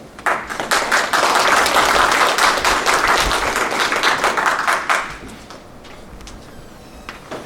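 A seminar audience claps to welcome a speaker, with loud, dense applause that builds quickly, holds for several seconds and then fades into quiet room tone.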